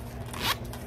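A small zipper on a little bag with a tiny pocket gives one short rasping pull, close and quiet over faint background hum.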